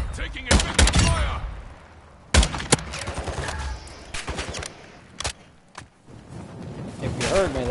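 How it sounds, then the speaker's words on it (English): Gunfire in Call of Duty Modern Warfare 2 arrives as scattered loud shots and short bursts, some close and sharp, others more distant, while people talk over the firing. "You are taking effective fire."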